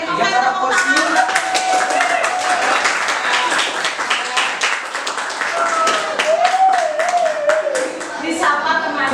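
Students in a classroom clapping hands together, a dense, steady burst of close applause lasting several seconds, with a few children's voices calling out over it.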